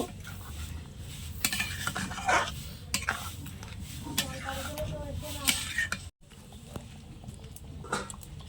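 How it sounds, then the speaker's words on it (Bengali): Broccoli being stirred in a pan for a yogurt diet dish, with irregular scraping and clinking of a utensil against the pan over a soft low sizzle, moderately quiet, briefly dropping out partway through. "এবার আমি এর ভেতরে ব্রোকলিগুলো দিয়ে দিচ্ছি, দিয়ে একটু নেড়ে দেব।"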